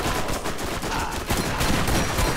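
Shotgun fire in the Borderlands video game: dense, continuous rapid gunfire filling the whole stretch, loud and close, with a brief dip midway before the barrage resumes.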